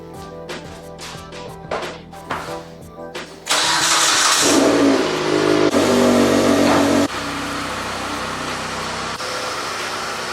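A Mitsubishi Lancer drives off and accelerates, its engine rising to a loud, strained roar before settling into a steady lower drone, after a few brief knocks and clicks at the start; no one speaks.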